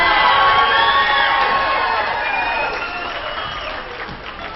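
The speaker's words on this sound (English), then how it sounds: "please give a thunderous applause for your 2025 Homecoming Queen" Basketball crowd at a college homecoming cheers and applauds for the homecoming queen, loud clapping with whoops and shouting, including young voices, gradually tapering off.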